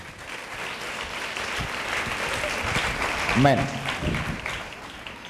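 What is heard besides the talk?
church congregation clapping in praise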